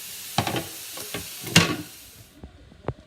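Beef sears in a cast iron pan with a soft background sizzle, broken by several sharp scraping and clattering bursts as the meat is placed and moved.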